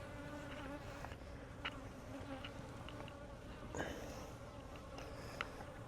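Honey bees buzz around a hive frame full of eggs, a soft continuous hum of many insects close by with occasional louder passes, faint and without talk.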